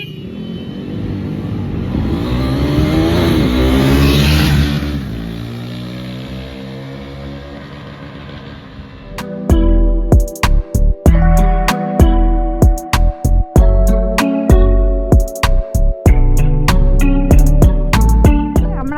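Motorbikes race along an old forest runway more than a century old, one engine revving and droning past up close, then a series of sharp stuttering throttle bursts and rapid rhythmic revving.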